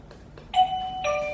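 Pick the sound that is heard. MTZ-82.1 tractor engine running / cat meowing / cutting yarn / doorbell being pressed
doorbell being pressed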